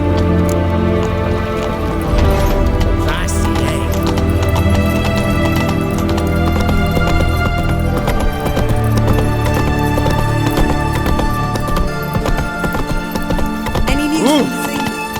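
Hooves clip-clop in rapid rhythm as a horse gallops through The Witcher 3 game world, steady and close under music and ambient sound, with game characters talking.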